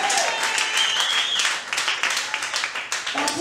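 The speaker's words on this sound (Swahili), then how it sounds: "Mpige Yesu makofi mengi." A church congregation breaks into loud, sustained applause during a sermon, dense clapping fading slightly toward the end, with a voice faintly audible underneath.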